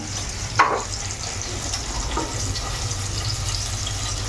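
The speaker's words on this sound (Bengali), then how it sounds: "চিকেনটাকে ফ্রাই করে নিলাম" Chicken pieces fry in a pan with a steady close hiss and sizzle, plus a brief louder stir or clatter near the start, alone without talk.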